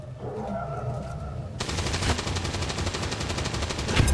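An incendiary grenade going off in the XCOM 2 video game, a sudden loud burst of crackling fire and rapid popping that starts abruptly after a quieter stretch and carries on densely to the end.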